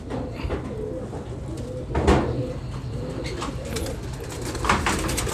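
Domestic pigeons coo softly and repeatedly in a loft-keeper's yard, a steady murmur with a brief louder flutter near the middle, against busy outdoor background noise.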